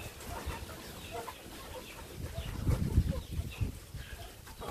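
Free-range backyard chickens cluck softly and repeatedly while pecking at pomelo segments, with low scratching and shuffling sounds close by and no talking.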